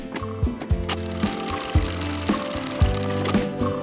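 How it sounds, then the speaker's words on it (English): A sewing machine running a seam along the bottom edge of fabric for a bunny-ear drawstring bag, with a rhythmic mechanical hum and regular thumping stitches, close and alone. "Then sew along the bottom using a 1 cm seam allowance"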